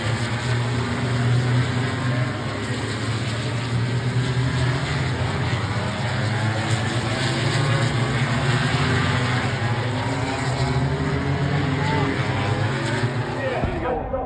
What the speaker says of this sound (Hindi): भाई सारी 1000 सीसी वाली बाइक सबसे मेन रेस है वाली जो हो रही है।